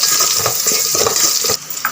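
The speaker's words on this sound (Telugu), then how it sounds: "ఉల్లిగడ్డ వేగిన తర్వాత పచ్చిమిర్చి వేసుకొని వేయించుకోవాలి." Onion and green chillies fry in a pan, a continuous bright sizzle broken by irregular stirring scrapes and soft clinks, close and steady with no talk.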